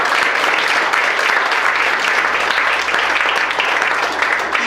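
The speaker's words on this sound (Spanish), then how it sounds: "Denle un aplauso al Señor." A church congregation at an Easter resurrection service gives sustained, loud applause, a thick steady roar of many clapping hands that barely wavers over nearly five seconds.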